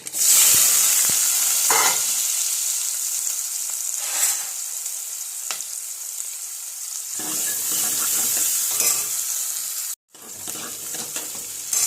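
Sliced onions sizzle in a hot pan with a bright continuous hiss, broken by repeated scraping stirs of a spatula and a brief drop out near the end before the frying resumes.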